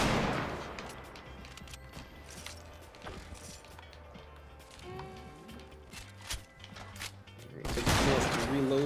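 Grenade blasts and scattered gunfire crack and thump through a Fortnite match, with a burst early on and a heavier loud explosion near the end, over a busy game soundscape with voices at times.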